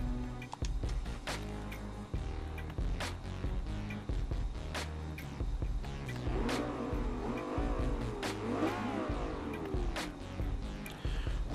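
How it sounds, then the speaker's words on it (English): A car's engine in the racing game Forza 5 revs repeatedly, rising and falling in loud, sharp bursts with clicking transients between pulls, no talk over it. "I can actually rev the thing"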